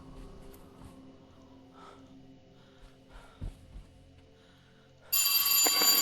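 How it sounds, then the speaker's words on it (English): A telephone bursts into loud ringing in the horror video game At Dead of Night, cutting in sharply after a few seconds of quiet ambient tones and faint thumps. "answer the phone?"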